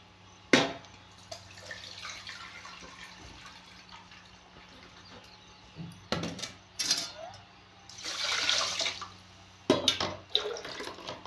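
Water pours over rice and splashes in intermittent bursts, with drips and trickles between them, close by and moderately loud.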